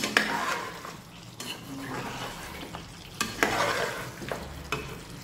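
Mutton curry is stirred in a pan, with close scraping and clinking of a spoon against metal over a low, steady sizzle.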